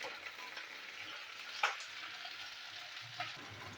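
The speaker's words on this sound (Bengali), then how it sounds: "দেখুন ঢ্যাঁড়স ভাজা হচ্ছে" Okra frying in a wok makes a soft, even sizzle at low volume, with two brief metallic clicks from a stirring utensil.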